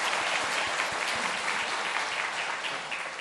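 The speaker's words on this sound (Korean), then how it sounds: "우리 박수로 한번 하나님 영광 돌리고 격려하시겠습니다" A church congregation claps together for students who have just sung a hymn at a Sunday evening service, a dense, steady wash of applause that carries on evenly without speech.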